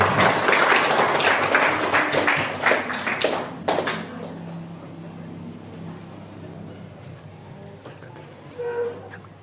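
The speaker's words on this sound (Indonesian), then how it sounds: "Tepuk tangan dulu" At a school gathering, a room of people claps for about four seconds in a dense, fairly loud burst of applause that fades out, leaving quieter room sound and a brief voice near the end.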